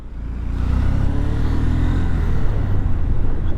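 A Mahindra Bolero SUV on a mountain road in Zanskar Valley, a loud close engine rumble and tyre roar that holds steady as it goes by.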